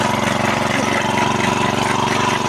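A tractor mows Nile grass for cattle feed in first gear, its engine droning in a steady, loud, close rumble throughout with no voices.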